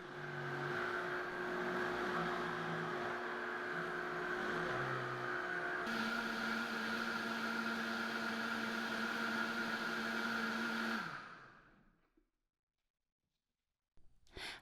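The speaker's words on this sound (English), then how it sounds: "Blend on high until smooth." A blender runs on high blending celery for about eleven seconds, a loud steady whir with a shift in pitch midway, then winds down into silence.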